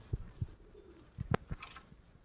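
A wild pigeon coos nearby outdoors, giving a few low, soft hoots in an uneven rhythm over quiet background noise.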